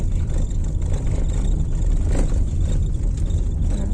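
A car on a road ahead during a walk along a roadside near a highway, heard as a steady, fairly loud engine drone and rumble with no speech.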